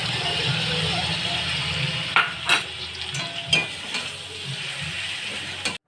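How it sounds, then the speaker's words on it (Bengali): Cauliflower in a pan with whisked sour yogurt is stirred, giving a steady sizzle broken by several scraping, clinking strokes of a spoon against the pan, heard close up. "টক দইটা ভালো করে ফেটিয়ে কপির মধ্যে দিয়ে ভালো করে নাড়াচাড়া করে নিতে হবে।"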